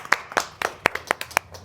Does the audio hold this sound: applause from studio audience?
yes